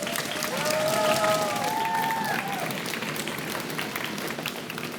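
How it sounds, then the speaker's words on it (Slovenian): A school quiz crowd applauds the yellow team, a steady wash of clapping and light cheering at moderate distance, with a brief whistle-like tone near the start. "En aplavz za rumene."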